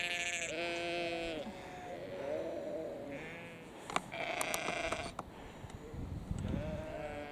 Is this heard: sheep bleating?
yes